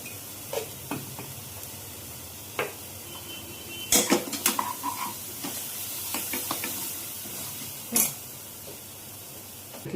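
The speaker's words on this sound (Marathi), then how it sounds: "आणि हे सगळं ढवळून घ्यायचं आहे वाटण टाकून व्यवस्थित." Masala paste being stirred into a prawn gravy in a pan for a homemade Malvani coastal dish, with scattered scrapes, clinks of utensil on metal and a soft sizzle, busiest around the middle and ending in a sharp clatter.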